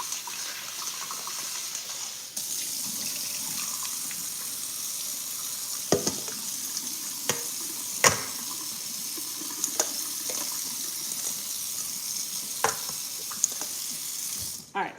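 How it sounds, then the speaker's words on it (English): Steak rinsed under a running kitchen tap, water pouring steadily and hissing into the sink, with a few sharp knocks and clatters as the meat is handled. "And then just rinse it off again."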